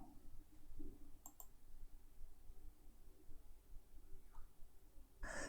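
Computer mouse clicks in a quiet room: a few faint, sharp clicks spaced about a second apart, with one more near the end.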